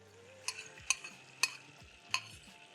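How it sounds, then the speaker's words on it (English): Eggs for garlic butter eggs sizzle faintly in a pan while a spatula scrapes and taps against it four times at a steady, spaced rhythm, close and quiet. "Add the eggs in my pan."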